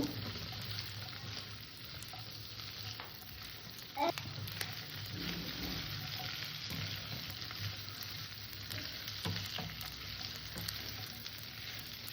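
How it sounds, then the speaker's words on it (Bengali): Potatoes and chickpeas fry in a pan with a soft steady sizzle, broken by occasional scraping and clinking as they are stirred, close by and fairly quiet. "আলু আর ছোলাটাকে আমি আগে দিয়ে দিলাম হালকা একটু নেড়ে চেড়ে নেবো"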